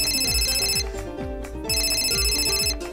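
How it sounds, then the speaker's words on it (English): A cell phone ringtone plays inside a visual novel game, a loud electronic ringing pattern repeating twice with steady tones and no voice over it. "Just as I was mindlessly staring at Usami's cell phone, it rang."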